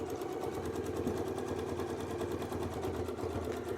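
A sewing machine stitches a quilt with a steady, rapid, rhythmic mechanical whirr that runs without a break, close and moderately quiet, with no one talking.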